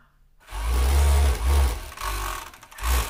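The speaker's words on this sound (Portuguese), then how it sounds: "Ela aqui na overlock também." An overlock sewing machine runs in several bursts, stitching a fabric strip with a rapid mechanical whir. It starts after a short silence, with brief pauses between the runs.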